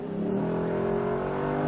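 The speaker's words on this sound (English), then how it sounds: "we can still hear that exhaust" A Lexus LC500 convertible's engine revs steadily and loud, its exhaust holding a smooth sustained drone close by with no breaks.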